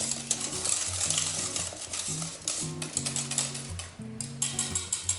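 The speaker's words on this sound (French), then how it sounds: "je retire ma spatule, je prends mon fouet, je remue au fouet." A whisk stirring flan pâtissier custard in a pan, a steady close scraping and tapping against metal with low bubbling underneath, continuous throughout without talk.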